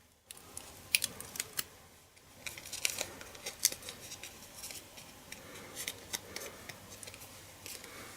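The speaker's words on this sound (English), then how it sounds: "remove the sticky backing" Sticky backing peeled off a paper craft piece, heard as a series of sharp little crackles and ticks spread over several seconds, close and fairly quiet.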